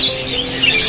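Budgerigars at the Katabon bird market in Dhaka give a dense, shrill chatter of overlapping chirps and squawks, loud and close, with no clear talk over it.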